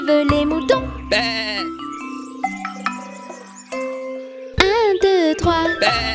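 Cartoonish sheep bleats in a French children's counting rhyme about sheep, several wavering bleats mixed with chimes and jingly music, with a voice singing at times.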